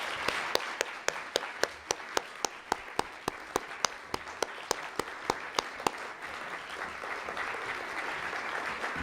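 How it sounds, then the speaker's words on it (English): A standing audience at a community partnership event gives a round of applause: one nearby person claps in a crisp steady rhythm over a wider, softer crowd clapping that carries on after the close clapping stops. "So let's all stand and give a round of applause."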